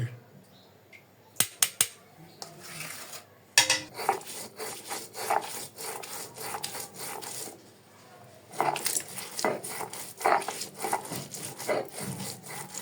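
Onions and garlic are ground on a stone for a shol fish bharta, heard as rough, rhythmic rubbing strokes close by, coming in bursts with short pauses and a few sharp knocks.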